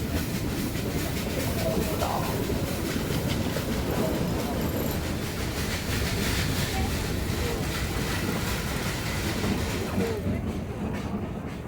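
The Ooty toy train climbs uphill on the mountain railway from Mettupalayam to Ooty, a continuous loud rumble with rhythmic clickety-clack of wheels on rails and wind buffeting the microphone, heard from on board.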